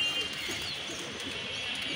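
Pet pigeons coo softly in the background, a faint low murmur over quiet room ambience.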